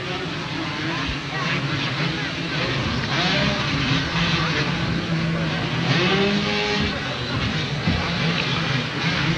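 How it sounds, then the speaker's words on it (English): A Suzuki motocross bike racing in a 250 expert class, its engine droning and rising in pitch throughout under steady race commentary. "Brett Beal, number 77, riding the Suzuki. 2nd place, coming up to the finish line"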